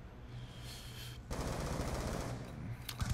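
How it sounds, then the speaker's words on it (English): Quiet, distant automatic gunfire in Call of Duty Black Ops 2, with rapid bursts rattling continuously through the clip at low volume and no speech. "Who's shooting out here?"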